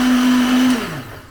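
A kitchen blender whirs loudly at a steady pitch for under a second, then spins down and fades as the motor stops.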